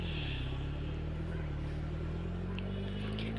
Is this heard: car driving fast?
yes